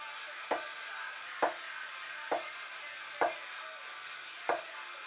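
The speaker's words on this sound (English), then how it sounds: "Just roughly chop it." Five separate knife chops through cheese on a cutting board while making German meatloaf (Leberkäse), each a sharp, close thud about a second apart over a quiet hum.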